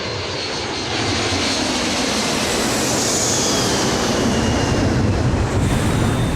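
A United Airlines Boeing 747 airliner in a steep emergency descent after explosive decompression, its engines roaring as a loud, constant wash of rushing noise that holds steady for several seconds, with no voices.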